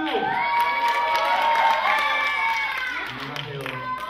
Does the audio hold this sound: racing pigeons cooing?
no